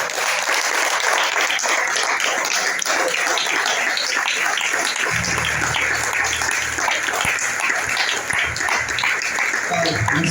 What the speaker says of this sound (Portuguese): Desocupe suas mãos e vamos aplaudir a palavra.